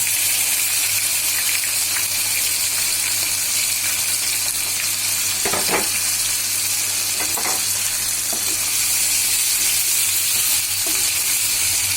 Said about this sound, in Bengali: এবার মশলাগুলো দিয়ে আমি এটাকে ভুনছি